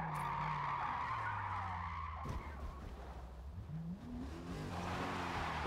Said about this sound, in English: But this is a little bit of in cockpit view of drifting here